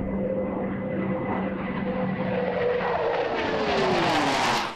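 A U.S. Navy Blue Angels jet roars loud and steady during takeoff, its whine climbing in pitch as it speeds up, with no one talking.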